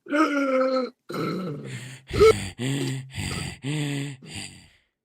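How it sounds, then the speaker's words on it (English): A Pokémon creature in a video game breathes loudly and obnoxiously, a run of about seven husky, groaning, gasp-like breaths in close succession, each voiced and drawn out, with no talking. "if you use your ears, you can just hear him breathing"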